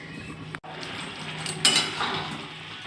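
A metal lid sets down on a cooking pot of simmering paneer curry, giving a short clink about midway. Low, steady kitchen hum and bubbling run beneath it.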